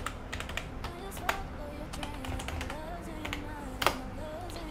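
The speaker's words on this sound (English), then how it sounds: "first enter your mobile number and then enter your password" Fingers enter a mobile number and password on a computer keyboard, giving a run of light, close, irregular clicks with a few sharper key strikes, over a quiet room.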